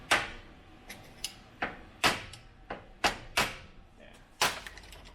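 Sharp metallic knocks at an irregular pace, about nine strikes, as a stuck primary-side part on a Triumph motorcycle is tapped loose in a workshop, each hit ringing briefly before fading.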